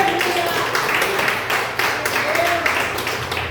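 A church congregation at a Sunday service claps together in a steady wash of applause, with voices audible under the clapping and a faint held tone in the background.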